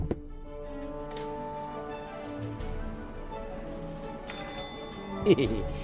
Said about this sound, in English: Subukan natin yung prank. Yung doorbell prank.